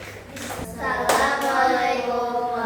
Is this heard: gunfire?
no